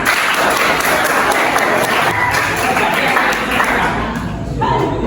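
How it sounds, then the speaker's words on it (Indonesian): Classroom applause from students in an Islamic jurisprudence lesson, a steady dense clapping that continues throughout with faint voices mixed in. "Tepuk tangan"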